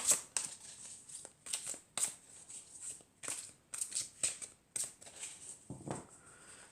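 Fairy tarot cards being shuffled by hand close up, a series of quick papery riffles and flicks in uneven bursts, with no talking.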